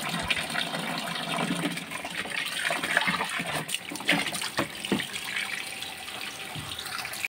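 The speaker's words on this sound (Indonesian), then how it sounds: "Oke, ini sudah saya isi airnya. Sudah penuh." Water pours into a bucket for catfish fry, a continuous close gushing and splashing that stays fairly loud and steady, with a few knocks partway through.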